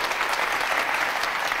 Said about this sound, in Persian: تشویقشون کنین